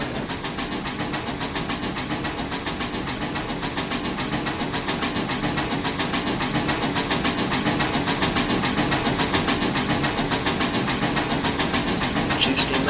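Steam locomotives A&WP 290 and BM&R 425 running in Trainz Railroad Simulator 2019 in heavy snow, giving a steady rhythmic chuffing and hissing rumble that holds loud and even throughout, with no voices.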